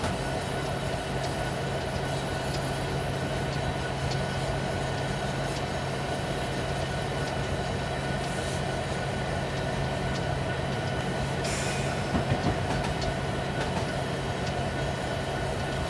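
In the Train Simulator game on Sherman Hill, with a Union Pacific SD70ACe locomotive, a train rumbles past in the distance, a continuous low hum and rolling drone with a brief clatter near the end.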